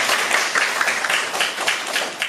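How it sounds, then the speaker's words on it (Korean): Audience at a university faculty meeting gives student presenters a brief burst of close, loud applause, with many hands clapping evenly throughout. "다시 한번 발표한 우리 친구들에게 큰 박수 부탁드립니다."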